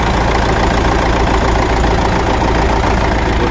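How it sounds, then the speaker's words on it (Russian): A 2003 MTZ-82.1 tractor diesel engine idles up close, a steady, loud, even low rumble running smoothly and unbroken throughout with no other sounds. "трактор работает чисто, мягко,"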